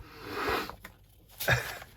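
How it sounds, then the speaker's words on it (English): Two close sniffs at sheets of designer patterned paper, a soft longer one followed by a sharper quick inhale, with a faint rustle between them. "Sniffing the DSP."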